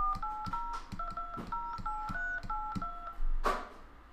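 Touch-tone keypad beeps enter a ten-digit phone number into an automated Cox Business account line, about ten crisp dual-pitch tones in a quick, even rhythm, followed by a brief louder burst near the end.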